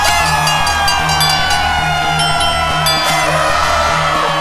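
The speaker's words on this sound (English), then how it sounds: "cheer and clap your hands as loud as you can" Children at a Chuck E. Cheese birthday party cheering and clapping: a loud, continuous mass of high young voices and whoops with hand claps, close and sustained throughout, over steady background music.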